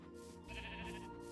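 A sheep in the video game Minecraft lets out one drawn-out bleat, heard alone against a faint game background.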